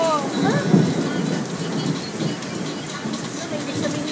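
Hail falls and bounces in the Philippines as a dense, steady pattering rattle with a low rumble beneath, while voices talk over it.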